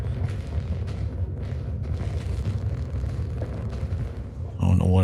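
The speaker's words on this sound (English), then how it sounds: "I like the new explosions." Heavy, rumbling explosions in the game Star Citizen, fired from an Origin M-80 heavy fighter, roll on continuously, ending in a louder burst. A voice talks faintly under the din.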